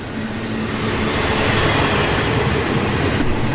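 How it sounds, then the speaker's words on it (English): A train rolls past close by in Ontario, a loud, continuous rumble of wheels and cars with a faint high squeal running through it. "Another train."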